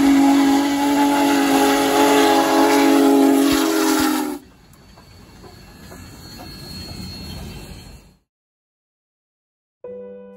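Union Pacific 4014 Big Boy steam locomotive pushing a freight train uphill, loud steady chuffing with a sustained whistle blast, then a quieter rolling rumble that cuts out before a brief faint sound returns.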